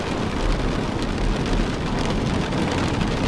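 Steady downpour with thunderous rumble in The Stanley Parable, a thick wall of rain noise and low booming swells, loud and constant with no voices.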